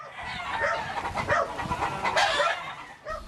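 Roosters at a cockfight, with clucking and crowing calls overlapping amid crowd-like background noise, moderately loud and busy throughout.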